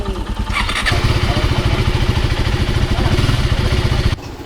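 A KTM Adventure motorcycle engine running up close on a road trip, a loud steady throbbing rumble with rapid even pulses that holds for about four seconds before dropping off abruptly.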